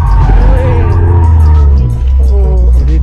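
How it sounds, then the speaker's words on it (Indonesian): Toyota GR Yaris with the handbrake pulled hard, wheels locking into a loud continuous skid over a steady low engine drone, close and sustained for about three seconds. "Nih, Om Fitra tarik rem tangan aja."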